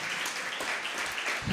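A church congregation applauds in a dense, even wash of clapping that fills the short moment, with a faint voice underneath.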